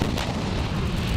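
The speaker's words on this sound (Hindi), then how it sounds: "चीन की तरफ मुंह करके रखी गई तोपों से भी ताबड़तोड़ गोलाबारी की गई।" Artillery guns pounding during a military drill facing China, a dense, continuous roar of booming fire with no gaps, loud and close.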